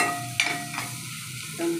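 Tomatoes stirred into a spiced masala of coconut, coriander and cumin powder, garam masala and red chutney, cooking for urad dal; a soft frying hiss with a couple of sharp spoon scrapes against the pan.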